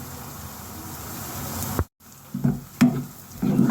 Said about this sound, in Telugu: ఇప్పుడు ఒక స్పూన్ జీలకర్ర వేస్తున్నాను కొద్దిగా మెంతులు వేస్తున్నాను